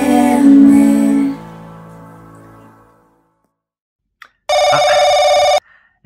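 A telephone rings in one loud, steady electronic burst of about a second, following a voice that fades into near silence.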